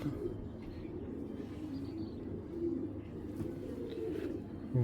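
A female racing pigeon, recently moulted, coos softly in a series of low, rolling calls, close by against faint background noise.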